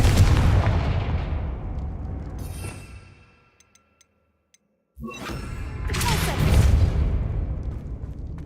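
Confringo explosion spell from Hogwarts Legacy, heard as two loud booming blasts, each rumbling off as a long decaying roar, with a short quiet gap between them.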